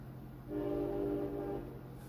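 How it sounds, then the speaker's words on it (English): A train horn sounds once in a sustained, moderately distant blast lasting about a second, set against a low background hum. "Confirmation of the train."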